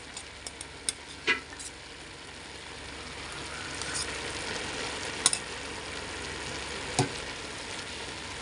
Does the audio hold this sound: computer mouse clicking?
no